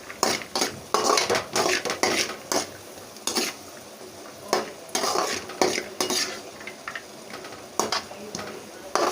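Cashews and raisins fry in a pan for bread halwa, with a metal spoon scraping and clinking against the pan in quick, uneven strokes over a steady, gentle sizzle, close up and with no voices.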